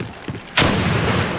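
A frag grenade in a video game goes off with one sudden loud blast, then a rumbling roar that sustains to the end, after a few faint thuds.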